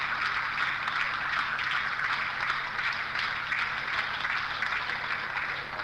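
Sustained applause from a large audience at a Hindi-language talk, steady and dense clapping throughout with no breaks, moderately loud and filling the room.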